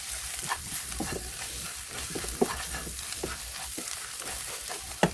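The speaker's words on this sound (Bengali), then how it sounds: "সব একসাথে এখন মিক্স করে নেব।" Spices are stirred together in a frying pan for an eel curry, giving a steady close sizzle with irregular scraping stir strokes and soft knocks, moderately quiet with no talking.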